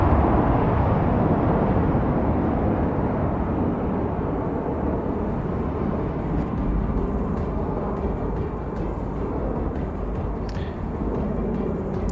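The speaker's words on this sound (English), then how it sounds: "va vous démontrer les capacités de vol de cet avion qui est l'Alpha Jet." A loud, steady jet roar from an Alpha Jet aircraft at an air display fills the whole stretch, a dense rumbling wash of engine noise that holds constant without letting up.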